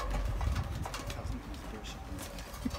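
Pigeon cooing outdoors near a rooftop, soft low coos over a steady noisy background, with faint voices present.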